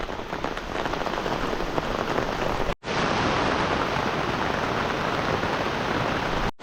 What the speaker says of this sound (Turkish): Şu anda yağmur yine artmaya başladı şu anda